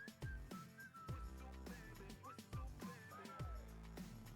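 Someone whistles a short, bright tune during a casual gaming stream, with music and percussive beats running underneath at a moderate, close level.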